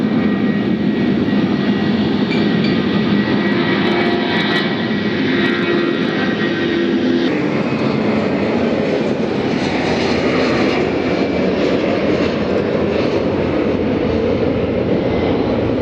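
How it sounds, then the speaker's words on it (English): A loud, steady jet roar dominates throughout, a broad rumbling whoosh that holds constant as a Boeing 777 passes close overhead near Memphis. "Oh yes, I do hear me a 777."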